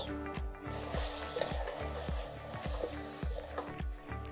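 Meat with plums, raisins, ground coriander, chilli and cardamom sizzles steadily while being fried for biryani, a continuous close crackle with regular rhythmic stirring knocks roughly every half second.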